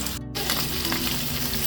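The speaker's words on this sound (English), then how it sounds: "We're getting that sear all over it, don't worry. That cast iron will do it" Meat sears in a hot cast iron pan with a loud, continuous sizzle close by. A brief dropout near the start breaks the sound before the steady frying resumes.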